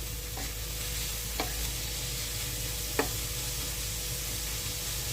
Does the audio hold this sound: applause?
no